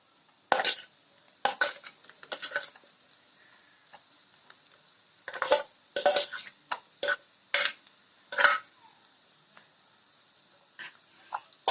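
A spoon mixing mashed boiled potato into masala in a pan, with bursts of metallic clanks and scrapes against the pan, close by, between quiet gaps.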